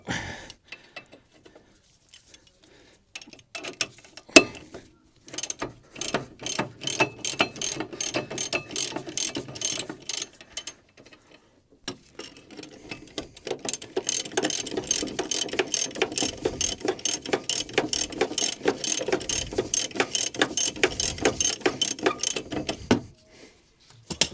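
Ratchet socket wrench loosening slightly rusty rear brake bolts on a Mk1 Mazda MX-5, close and loud: a few scattered clicks, then long runs of rapid, even ratcheting separated by a brief pause, with no talking.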